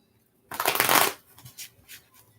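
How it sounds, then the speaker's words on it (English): Tarot cards riffled in a single loud shuffle lasting about half a second, followed by a few softer card taps and slides, close up with no voices. "I'm going to shuffle the cards good, clear the deck"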